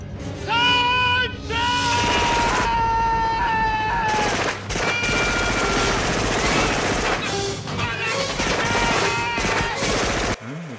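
Heavy machine gun fire from the 1987 film Predator, loud sustained bursts mixed with film score tones and shouting, with people talking over it.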